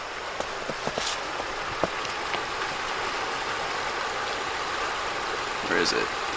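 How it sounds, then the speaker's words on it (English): On a hiking trail, a small waterfall and stream keep up a steady, soft rushing wash, with a few faint clicks and rustles. "A little mini waterfall up there."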